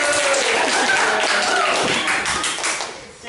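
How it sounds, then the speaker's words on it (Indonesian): Schoolchildren in a classroom applaud a classmate with dense, steady clapping that carries on for a few seconds and thins slightly near the end. "Tepuk tangan buat Rozin."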